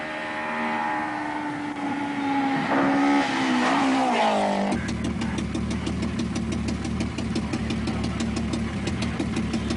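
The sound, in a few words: Nissan 240 RS rally cars racing at high speed on asphalt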